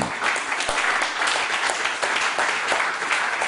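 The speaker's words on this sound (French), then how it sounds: "Applaudissez Jésus." A church congregation applauds during a sermon, a sustained wash of many hands clapping at close range with no break.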